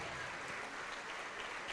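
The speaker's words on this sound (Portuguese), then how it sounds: "vamos aplaudir ao Senhor Jesus" Faint, steady applause from a church congregation, a soft continuous wash of many hands heard from a distance with no clear voices.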